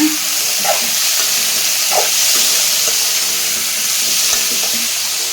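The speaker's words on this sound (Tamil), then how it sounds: "இப்போ இது நல்லா வதங்கட்டுங்க" Vegetables sauté in a hot pan for wheat rava kichadi, giving a steady, loud sizzle and hiss with occasional soft stirring scrapes and no talking.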